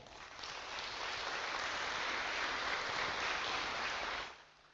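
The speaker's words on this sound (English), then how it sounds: "Let's clap for that." Audience at a business presentation clapping together, a dense steady burst of applause lasting about four seconds before fading out.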